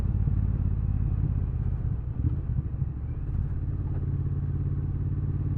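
A Triumph Bobber motorcycle engine running, heard as a steady, close, low rumble with a light clatter throughout, moderately loud and with no talking.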